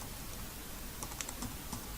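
Coupon code being typed on a computer keyboard, a soft steady patter of keystrokes with a few slightly sharper clicks, faint and close.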